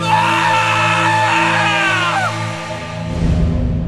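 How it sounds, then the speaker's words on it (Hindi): A woman's scream used as a sound effect in a Hindi horror story narration set in a Himachal village, a loud sustained shriek with a wavering pitch that fades into a low rumble near the end. "ये देखते ही बिरजू की चीख निकल गई।"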